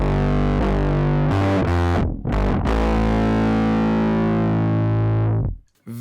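A bass guitar runs through an MXR M287 Sub Octave Bass Fuzz pedal on its blue setting. The tone is thick, warm and compressed, with a deep sub-octave. Sustained fuzzy notes and a few quick changes ring loud and up front, then cut off.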